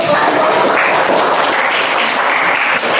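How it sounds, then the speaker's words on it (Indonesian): A classroom full of students claps together, a dense, loud, continuous burst of applause lasting a few seconds. "Beri aplaus dulu."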